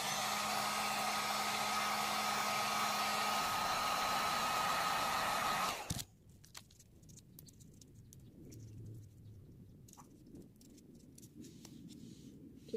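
A heat tool blows steadily on craft pieces laid on tape, a loud continuous whooshing hiss lasting about six seconds before it cuts off abruptly, leaving faint handling noises.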